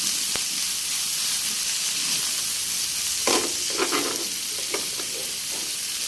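Chicken liver frying in a pan gives a loud, steady hissing sizzle, with a few scraping knocks of stirring in the middle, close up and with no talk.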